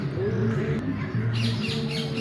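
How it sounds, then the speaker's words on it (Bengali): Small birds squawking and chirping nearby in short, repeated calls over a steady background hum, at Bono Bilash zoo. "ছোট্ট দুইটা পাখি"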